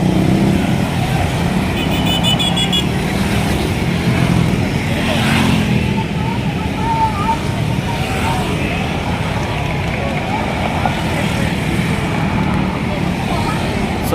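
Road traffic on a busy Manila Bay street near a protest: cars and heavier vehicles rumble and pass continuously close by, with someone talking over the steady engine noise.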